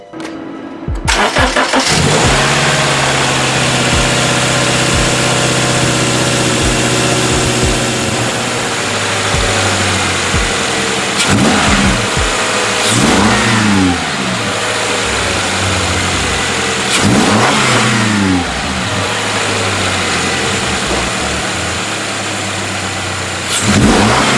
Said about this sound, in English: let it run, let all the oil circulate through the motor, and we're going to give it a couple of revs too